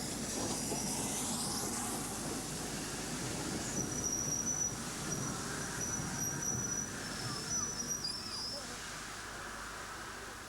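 The Flying Scotsman steam locomotive hauling the Valentine Express special train, a steady rumble of the passing train with wheel squeal and rail noise, under a narrating voice.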